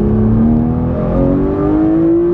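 A Porsche 991 GT3 engine revs steadily and loudly up close, its pitch climbing slowly in a continuous mechanical drone with no voices.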